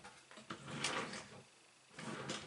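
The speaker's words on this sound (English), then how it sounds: "It's in one of these drawers somewhere." Drawers slide open and bump shut a few times in a home craft space during a search for brown tacky glue, with short scraping rattles separated by quieter pauses.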